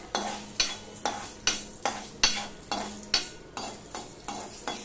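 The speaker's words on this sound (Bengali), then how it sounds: "তিলটাকে একটু ভালো করে ফোড়ন হতে হবে।" Sesame seeds tempering in hot oil for raw mango chutney, a steady crackle of frying under repeated rhythmic stirring strokes, about ten scrapes of a spoon through the pan, close and fairly quiet with no talking.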